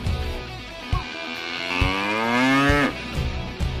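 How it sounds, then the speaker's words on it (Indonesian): A single cow lets out one long, loud, close moo that rises in pitch and then cuts off, with brief knocks and rustling around it. "Sapinya ke sana"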